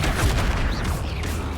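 A Flipendo spell cast in the Hogwarts Legacy video game, a dense burst of low booming magical impact noise lasting about a second and a half, loud and continuous with no pause.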